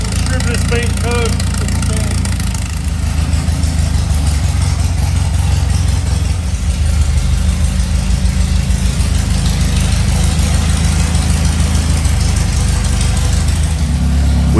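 Car engine running on its first start after restoration work, a loud, steady idle with a knocking, rumbling texture that persists throughout with no pauses.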